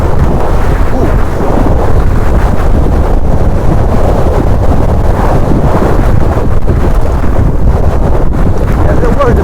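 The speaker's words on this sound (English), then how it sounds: "the wind is blowing constantly" Wind blowing hard and constantly on a hillside at Glentress mountain bike trails, roaring across the microphone in a loud continuous buffeting rush with no break.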